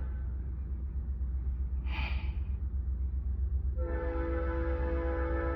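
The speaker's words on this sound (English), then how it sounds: "it's the damn train, the audacity" A train rumbles steadily nearby under a low continuous roar, then its horn sounds a sustained, harmonically rich blast near the end.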